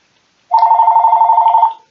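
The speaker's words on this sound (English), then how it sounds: "Sorry about that. That's my phone." A mobile phone ringtone rings alone for over a second, a steady warbling electronic trill with rapid regular pulses, loud and close, then cuts off.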